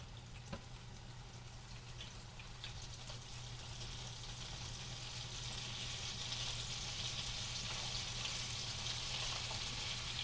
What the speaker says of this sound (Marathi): आणि आता मी ह्याच्यामध्ये बटर टाकत आहे